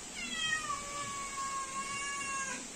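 A cat gives a long, drawn-out, wavering meow close by, rising and falling with clear tone over a faint steady background hiss.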